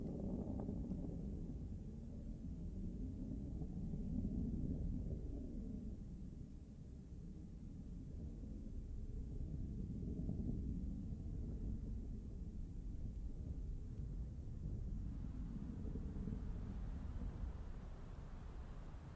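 A Blue Origin New Shepard rocket's BE-3 engine at full thrust during crewed ascent to space makes a deep, distant rumbling roar that rolls and swells steadily throughout, muffled and without speech.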